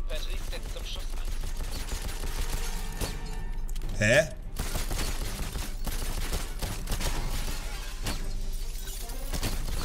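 Gunfire rattles in the 007 Legends video game, with dense continuous shooting and impacts under the game's sound, a sharp burst near the middle, and someone speaking briefly.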